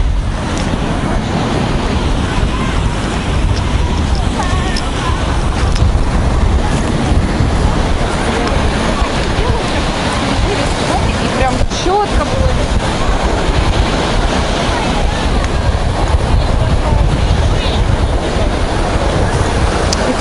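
Wind and sea waves on a beach of the Sea of Azov at Golubitskaya: a loud, unbroken roar of gusting wind buffeting the microphone over the steady wash of surf.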